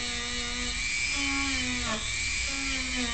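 A high-pitched rotary tool whines steadily while polishing an internal metal part of a Tippmann paintball marker, its pitch dipping and rising as it presses against the metal. The sound is close and sustained.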